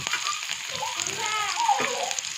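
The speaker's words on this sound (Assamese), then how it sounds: "তেলখিনি গৰম হৈ গৈছে, এতিয়া মই নহৰু দি দিছোঁ আৰু সৰু সৰুকৈ কাটি ৰাখিছোঁ পিঁয়াজ দিছোঁ।" Garlic and chopped onion hit hot oil with a continuous bright sizzle and crackle that swells slightly midway, with a faint voice underneath.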